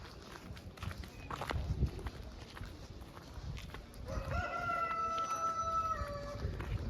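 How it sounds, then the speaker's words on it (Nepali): A rooster crows in the latter half, a loud, drawn-out harmonic call rising over footsteps and outdoor ambience on an evening walk near Subarneshwar temple. "कता यो भाले उ गरे"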